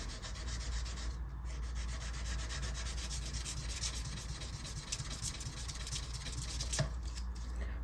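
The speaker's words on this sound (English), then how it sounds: "And then I'll use the Stumac little buffing stick." A Stumac buffing stick polishes the frets of a Cardinal Zenith guitar during a fret repair, giving a steady close-up rubbing and sanding sound that runs without a break and has no talk over it.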